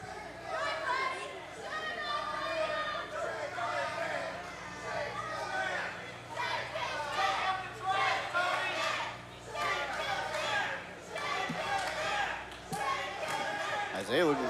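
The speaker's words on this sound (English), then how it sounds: "Crowd chanting on, though." A wrestling crowd at an OVW show keeps up a steady, rhythmic chant, dense and sustained throughout, with loud cheering swells and commentators talking over it.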